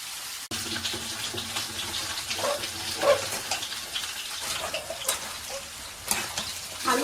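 Marinated meat fries in a wok with whole garam masala, Malda style, making a continuous crackling sizzle punctuated by scraping stirs and clanks, fairly quiet and without speech.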